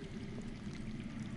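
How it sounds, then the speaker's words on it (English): Underground water in Telltale's Game of Thrones flows steadily as a soft, continuous rushing trickle with a low murmur beneath, fairly faint and unbroken. "that's water. I hear water."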